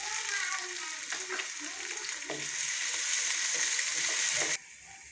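Frying chicken sizzles loudly in a pan as tomatoes go in, a steady hiss with scraping stir strokes, close up, cutting off abruptly near the end.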